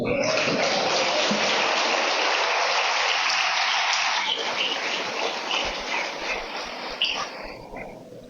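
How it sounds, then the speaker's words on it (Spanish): A church congregation claps in sustained, dense applause during a fasting service, loud and steady at first and then gradually fading away toward the end. "Yo creo que merece unos aplausos"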